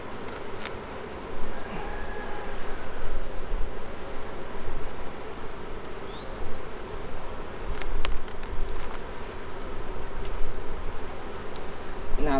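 Honeybees buzzing in a dense continuous drone around open hive frames during a varroa mite treatment, close and steady throughout, with occasional rustling.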